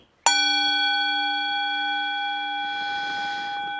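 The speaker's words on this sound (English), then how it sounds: "Here comes the gong." A gong struck once to open a morning breathing meditation: a sudden strike after a short silence, then a bright, shimmering ring that holds steady and slowly fades, loud and close.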